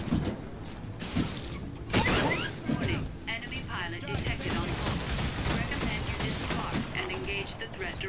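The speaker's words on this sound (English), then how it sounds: "Somebody shooting me from the back." Rapid gunfire from Titanfall beta on Xbox One as a player takes hits from behind, bursts of shots and mechanical clatter at moderate level with game sound effects around.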